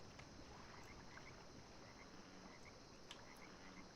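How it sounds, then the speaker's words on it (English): Faint frog croaks repeat sparsely beneath a low, steady ambient hum in the video game Demon's Souls, distant and quiet, with no voices. "You hear like frogs ribbiting in the background"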